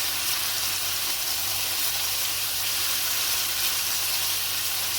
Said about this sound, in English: You want to get the ketchup cooking a bit here first